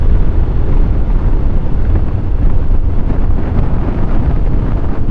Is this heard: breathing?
no